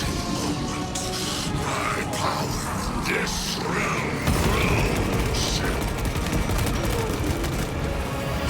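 Rapid gunfire rattles in a dense, continuous stream from the game xenos in the 40th xilennium, with metallic mechanical clatter and heavy booms layered beneath.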